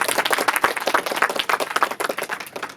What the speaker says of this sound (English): Please, warm round of applause like that.